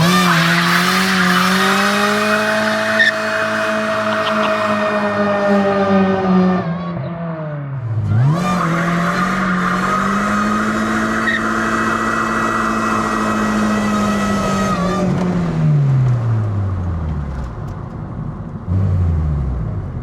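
A supercharged 7th-generation Honda Civic with a K24 engine swap does a burnout. The engine holds a loud, high, steady rev with screeching tires, dips sharply once, then climbs back and sustains the wail before winding down, with no talking.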